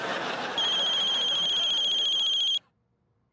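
A mobile phone rings with a loud, steady electronic tone over faint room noise, then stops abruptly.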